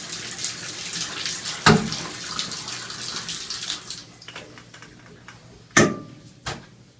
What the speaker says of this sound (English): we're just going to rinse down in here to the bottom. Just give it a little more water